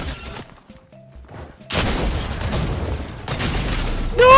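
Gunfire in the video game Fortnite Zero Build: a sudden loud burst of rapid shots after a quieter stretch with game tones, continuing as a dense barrage and swelling again near the end.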